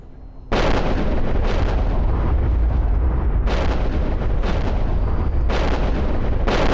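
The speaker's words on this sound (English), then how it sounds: "Doomsday weapon" The Doomsday weapon fires in the EVE Online space game as a series of heavy, booming blasts, several loud explosive bursts with rumbling low ends spaced a second or two apart over a continuous roar.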